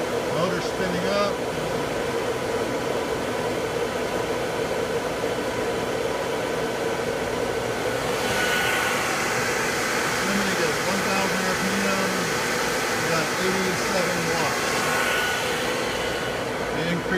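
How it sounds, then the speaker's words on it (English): A permanent magnet motor driven by a prototype inverter on a dyno spins up with a steady broadband whir and hum, a tone rising partway through, while a person talks over it. "Motor spinning up."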